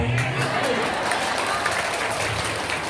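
A crowd at a religious gathering in a prayer hall claps steadily, a dense wash of applause filling the whole stretch at even loudness, with faint voices beneath.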